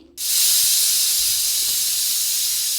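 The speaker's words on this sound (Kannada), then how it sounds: "ಇದು ಎರಡು ಸಲ ವಿಜಲ್ ಬರುತ್ತೆ" A kitchen pressure cooker cooking palak rice lets off steam in a sudden loud, sustained hiss that starts abruptly and holds steady at close range.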